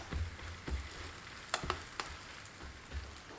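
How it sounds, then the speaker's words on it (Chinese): Scallion pancake dough fries on an oiled electric griddle, a soft continuous sizzle broken by faint crackles and a few sharper pops, fairly quiet and alone. "刷一层薄油，油热后放入生坯"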